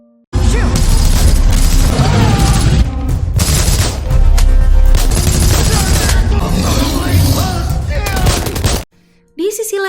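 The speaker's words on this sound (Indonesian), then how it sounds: "Sheriff Joe sama Russell masih coba nembakin tuh aligator." Guns fire at an attacking alligator in the flooded prison thriller The Flood (2023): dense bursts of loud gunfire and crashing impacts come in rapid clusters, and the sound cuts out briefly near the end before a short tail.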